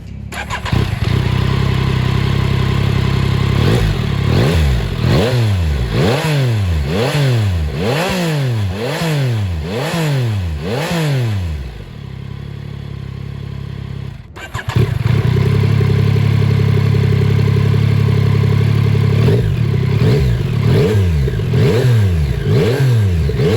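A 2021 Yamaha MT-09 motorcycle engine fires up and revs repeatedly in a steady rising-and-falling rhythm, close and loud, briefly dropping to idle before roaring again.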